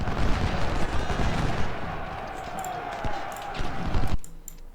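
Massed musket volleys crackle in a Civil War battle from the strategy game Ultimate General: Civil War at Chickamauga, a dense, continuous roar of distant gunfire with scattered sharper cracks, cutting off abruptly near the end.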